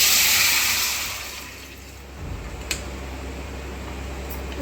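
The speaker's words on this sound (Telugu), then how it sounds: "ఈ మటన్ ఉడికించుకున్నది ఉంది కదా, అది వాటర్తో పాటు వేసేయాలి." Boiled mutton with its cooking water tipped into a pan of hot oil, a broad rushing pour and splash that fades after two seconds into a quieter steady bubbling hiss with one small knock.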